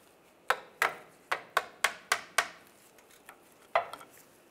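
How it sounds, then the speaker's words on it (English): Sharp metallic clicks and taps from a straight pick working apart the clamp on a steering rack and pinion boot of a 2007-2013 Chevrolet Silverado 1500, a quick run of seven close, fairly loud ticks, a pause, then a few more. "I'm gonna use a straight pick and just get in here and I just need to spread this apart"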